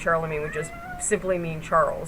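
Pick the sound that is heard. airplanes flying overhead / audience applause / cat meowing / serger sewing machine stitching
cat meowing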